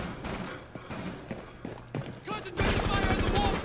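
Bursts of gunfire in Rainbow Six Siege's terrorist hunt mode, scattered shots giving way to a loud sustained fusillade near the end, with a voice speaking over the shooting.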